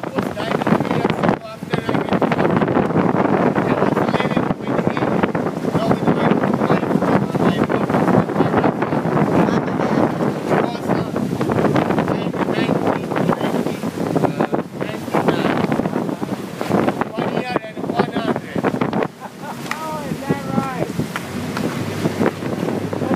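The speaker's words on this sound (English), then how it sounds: "And the wind is back in our face." Strong wind roars and buffets the microphone during a boat ride off Capri, with engine and water noise underneath and people talking and cheering throughout.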